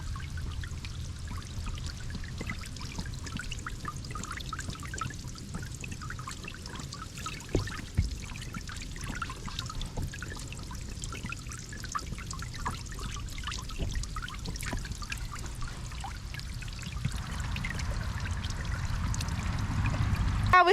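A small solar-powered fountain's stream pours and trickles continuously into water, steady and close, with faint splashes and a slight swell toward the end.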